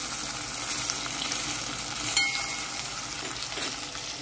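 Pieces of salmon fry in a pan with a steady, soft sizzle, broken by a couple of faint clinks near the end.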